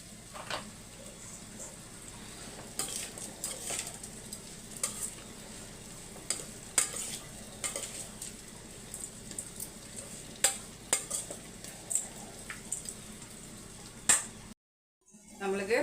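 Food is stirred and fried in a pan with a low, continuous sizzle. Frequent scraping and tapping from the spoon runs throughout, and the sound cuts briefly near the end.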